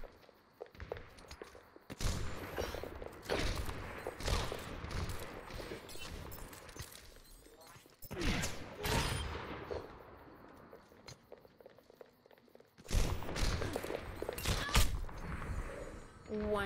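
Rapid bursts of video-game gunfire in sharp, clustered volleys, loud and close, broken by brief gaps of quiet, with no talking over them.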